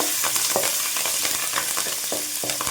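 Curry leaves and green chilies sizzle in hot oil in a pan for a chickpea masala curry, with a spatula stirring and scraping in irregular strokes over the steady frying hiss.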